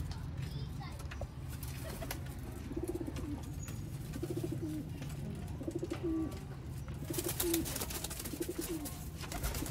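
Pigeons cooing in repeated soft, low rolling phrases at a breeder's loft, fairly close but quiet, over a steady background hum, with someone talking intermittently.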